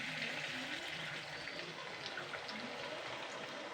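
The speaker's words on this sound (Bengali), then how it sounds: "সিদ্ধ করার যে জলটা ছিল সেটা কিন্তু আমি দিয়ে দিচ্ছি" Water left from boiling raw tamarind is poured steadily into a cooking pot, a continuous hissing splash lasting a few seconds with no voices.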